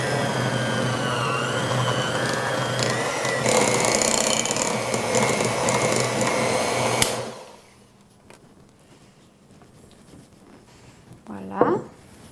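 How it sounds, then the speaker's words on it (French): Electric hand mixer beating mascarpone and sugar for tiramisu, a loud steady whirring drone for about seven seconds that cuts off abruptly, followed by quieter kitchen handling and a brief voice. "Avec mon fidèle malaxeur, on va tout mélanger les ingrédients"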